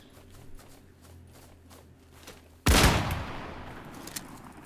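A Desert Eagle pistol fires in the video game Islands of Nyne, one sharp loud blast with a decaying echo after soft footsteps and quiet game ambience.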